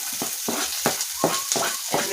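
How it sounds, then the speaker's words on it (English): Onions sweating in a pan with mushrooms sizzle gently, broken by a regular series of soft stirring scrapes about every third of a second, close and alone. "we let the onions sweat for a bit"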